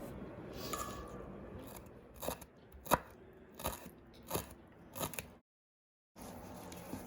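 Mushrooms being chopped for wonton soup: a run of sharp knife-on-board knocks, about half a dozen spaced strokes, close and fairly quiet, ending in a brief silence before faint room noise returns.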